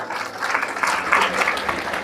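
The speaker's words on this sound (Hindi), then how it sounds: "बहुत बढ़िया, जोरदार तालियां।" Loud audience applause at a spiritual talk in Hindi, a dense burst of clapping that swells through the middle and keeps going to the end, with no voices over it.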